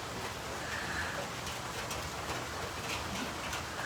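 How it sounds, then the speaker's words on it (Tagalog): Steady rain falls over open ground near a shelter, a dense even hiss that fills the whole clip at moderate level with no voices. "Kasi umuulan."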